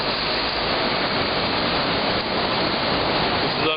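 Heavy pouring rain in Times Square, New York City, a dense, loud, unbroken hiss of downpour filling the air with no letup.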